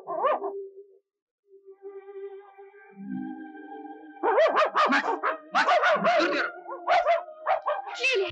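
In a 1960 Turkish film, after a brief voice and a lull with a tonal hum, a small dog breaks into a quick series of sharp, close barks and yelps.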